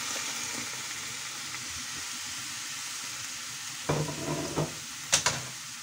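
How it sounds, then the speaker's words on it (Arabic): Frozen fish sizzling in a hot, dry frying pan with no oil, a steady close hiss, then a few clanks of utensils against the pan near the end, with no talking. "خديت مقله سخونه، ما عندي لا زيت لا والو، غنرمي فيها هاد الحوت."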